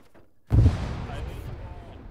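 A frag grenade explodes during platoon training, one sudden deep boom followed by a long rumbling tail, with voices talking around it.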